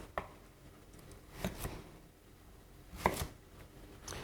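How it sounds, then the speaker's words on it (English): A kitchen knife cuts through a courgette on a board with a few separate close knocks spaced over a few seconds against a quiet background. "cut it in half, and then probably cut it into 3 slices"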